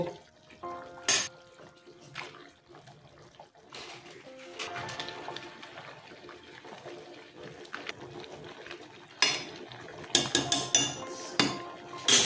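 Papads go into a pan of boiled potato curry spiced with garam masala for aloo papad dalna. Utensils clatter and clink close by, over a soft wet bubbling, with louder bursts of metal knocks toward the end.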